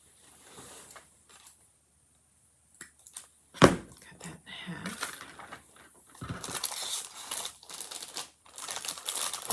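Cellophane crinkles in short bursts of crisp rustling while wire ribbon is cut and wrapped, close and fairly quiet with a few louder crackles and snips, and scattered speech between them.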